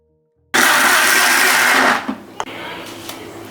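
Mixer grinder blending cooked, cooled broccoli soup: a loud, steady whirring roar that starts abruptly, runs for about a second and a half, then cuts off and spins down with a few knocks.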